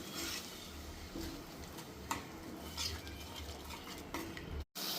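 A spoon stirs chicken curry paste and water in a pan, giving soft, intermittent scraping and clinking against the metal at a quiet, close level, with no talk.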